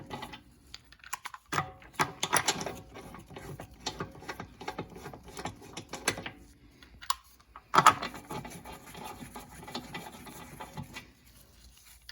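Brake caliper clips on a Volkswagen Passat snap into place: a series of small, close plastic-and-metal clicks and taps spread irregularly over about twelve seconds, with one sharper snap near the end.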